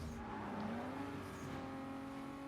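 A small car racing in Need for Speed Most Wanted, its engine droning steadily with a rising pitch sweep and a constant game-mix hum, fairly quiet and without any talking.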